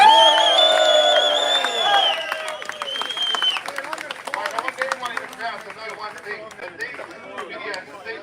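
A crowd at a street rally outside the Russian Consulate cheers and whoops, then breaks into sustained clapping that thins out toward the end, loud and close.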